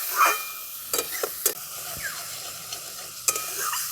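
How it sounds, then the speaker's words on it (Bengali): Coriander leaf pickle mixture being stirred with salt, a soft scraping under several sharp clinks and knocks of the utensil against the vessel, scattered irregularly, with no talking. "দেখুন এটা একটু নাড়াচাড়া করে নিয়েছি"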